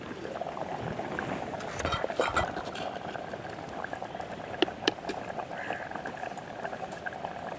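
Lentils simmer in a covered pot on a stovetop, a steady close bubbling and burbling that runs throughout, with a few faint clinks near the end.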